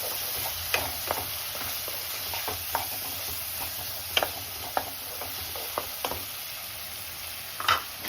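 A spoon stirs spices through egg bhurji masala curry in a pan, steady frying sizzle under a series of irregular scraping taps against the pan, close and fairly loud.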